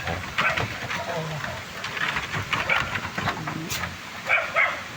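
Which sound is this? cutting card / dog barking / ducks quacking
dog barking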